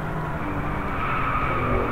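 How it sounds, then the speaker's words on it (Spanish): DriveClub racing game on PS4 plays a car skidding, with a sustained engine drone and tire squeal that hold steady and loud throughout with no speech. "¡Oh! No patines, carro de mierda."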